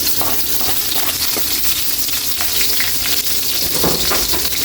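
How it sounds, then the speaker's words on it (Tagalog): Ginger, garlic and onion sauté in a hot pan for pork tinola, giving a loud, steady sizzle broken by occasional stirring scrapes, with no talking. "Okay na yung luya natin kay lagay na natin yung bawang at sibuyas."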